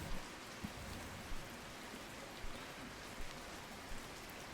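Steady rain hisses in the garage-building game My Garage, a dense even wash of drops with occasional louder patters, no voices present.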